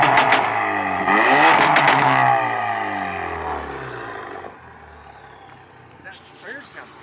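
A 6.0-liter Ford Powerstroke diesel engine revs loudly with a harsh wavering whine, then drops to a lower idle as the turbo surges, while people talk over it.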